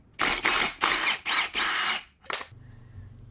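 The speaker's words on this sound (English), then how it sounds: "I'm gonna start by removing these three bolts here. They're 16s with probably a 16 backer" Removing 16 mm driveshaft bolts on a BMW 545i E60 with a power tool, five short loud rattling bursts in quick succession, then a brief final burst and a low hum.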